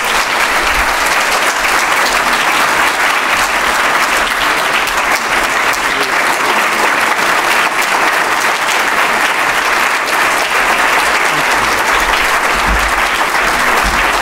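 An audience claps steadily to welcome a speaker, sustained, dense applause filling the room at full volume throughout, with no break.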